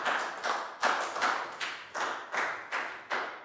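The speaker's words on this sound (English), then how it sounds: "Big round of applause for Pak Bung" Rhythmic clapping from a classroom of children during an English lesson, about nine even, fairly close bursts in a steady beat.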